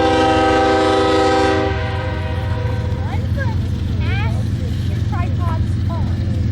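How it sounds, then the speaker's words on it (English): A Norfolk Southern westbound coal train led by two BNSF locomotives sounds a long, loud multi-tone horn blast that cuts off, followed by a steady rumble of rolling rail cars with squealing wheel flanges. "decided to send a Norfolk Southern westbound coal train through to Diamond, being led by 2 BNSF locomotives"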